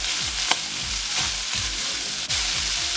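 Italian sausage with chili pepper flakes frying loudly in a pan, a thick continuous sizzle broken by repeated scraping strokes of a spoon stirring, close and without speech.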